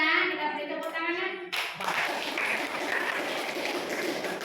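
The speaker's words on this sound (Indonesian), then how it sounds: "Kita beri tepuk tangan" Voices talk briefly in a classroom, then a group breaks into applause, a burst of hand clapping that carries on steadily to the end.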